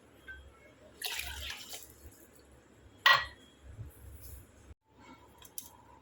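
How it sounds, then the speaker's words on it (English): Roughly 750 ml of water poured into a pot for ginger tea, heard as a short splashing burst, then a sharper clink and a few softer trickles, fairly quiet with low room hum underneath. "I'm taking 750, approximately 750 ml of water here"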